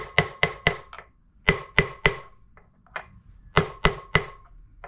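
A bearing outer race is tapped into place on a Kawasaki Z1 900 using a socket, sharp metallic hammer blows in quick clusters of three or four with short pauses, close and alone.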